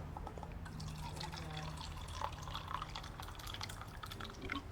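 Water poured out of a container during a live demonstration, a soft, faint trickle and splash over a low background hum, with a few scattered drips and no talking.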